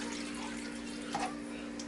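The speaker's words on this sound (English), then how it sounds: "I'm going to add about 2 more cups of water" Water pours into a cooking pot while making brown stew chicken, a steady close splashing stream with a faint hum underneath and no talk.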